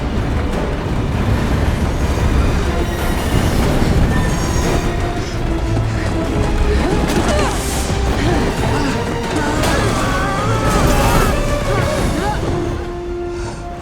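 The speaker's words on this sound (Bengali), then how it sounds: "খুব শীঘ্রই ট্রেন আসতে চলেছে" A train running on a curved railway track, a loud continuous rumble with metallic squeals and clatter swelling and fading over several seconds, mixed with other sound effects.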